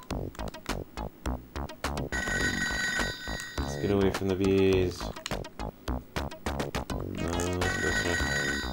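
Telephone ringing inside a video game, bright repeated ring tones over game music and effects while someone talks.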